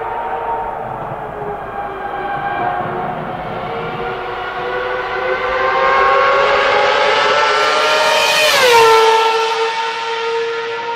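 An F1 race car passes by, its high engine whine climbing louder and then sharply dropping in pitch as it goes past, followed by a fading, lower tone.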